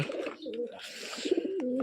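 A pet pigeon coos close by in two short throaty calls, with faint rustling between them.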